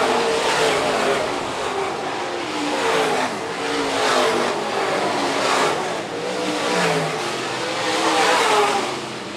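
Modified race cars roar down the back straightaway of a dirt oval at Phillips County Raceway, a loud continuous engine drone swelling and fading as the pack passes, with no talk.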